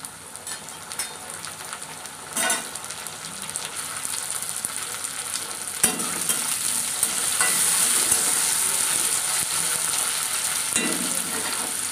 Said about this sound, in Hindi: देखिए प्याज फ्राई हो गया है इसी में हम लोग डालेंगे टमाटर कटा हुआ टमाटर